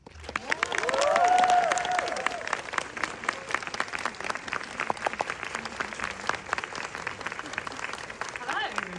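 Audience applause greeting author Alice Oseman and Patrick Walters at a Heartstopper Season 3 premiere event, a full room clapping steadily with a few cheers, swelling early and then holding at an even roar.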